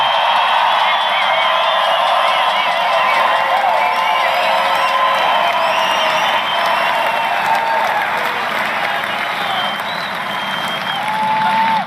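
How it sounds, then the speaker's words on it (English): Large outdoor political rally crowd in Belgrade, Montana, applauding and cheering for veterans, a dense steady roar of clapping with whoops and shouts sustained loudly throughout. "I think we all should give them a tremendous round of applause"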